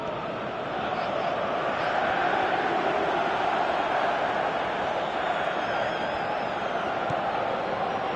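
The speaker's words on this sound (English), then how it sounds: "you can hear how the crowd are reacting to this too" The stadium crowd in the football video game PES 2017 reacting to play, a continuous broad roar of many voices that holds steady at moderate loudness and swells slightly as it goes on.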